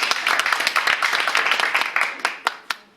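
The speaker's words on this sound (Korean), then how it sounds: "박수 한번 부탁드립니다" Audience applause during a company chairman's talk, a loud burst of crowded clapping that thins into a few scattered separate claps before fading out, with faint voices mixed in.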